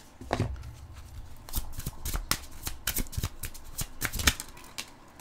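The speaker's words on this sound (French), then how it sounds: "On va aller vous chercher une carte conseil" Tarot cards are shuffled by hand for an advice draw, producing a series of crisp, close riffling and slapping bursts at irregular intervals with no talking.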